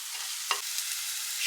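Tomato and onion masala with ginger garlic paste, chicken masala, turmeric and chilli powder being pressed and fried in a pan: a continuous gentle sizzle with a quick spoon scrape midway and another at the end.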